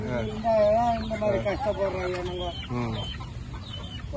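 Chickens cluck near a roadside hut during the rainy season, soft repeated clucks and calls mixed with low voices talking nearby.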